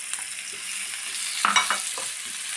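Onions and three green chillies sautéing in a pan with a little salt, a soft sizzle broken by a brief cluster of spoon scrapes and knocks.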